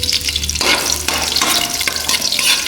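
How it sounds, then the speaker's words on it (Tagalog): Garlic toasting in a pan sizzles loudly and steadily up close, with the crackling fry broken by stirring scrapes and shifts in intensity. "Ang ginagawa ko sa bawang ay na-toast ko muna ang mabuti."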